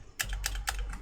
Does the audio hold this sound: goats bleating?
no